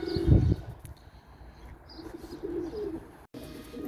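Young pigeons in a loft give soft, low coos close by, with a louder burst near the start followed by quieter, intermittent cooing and light rustling.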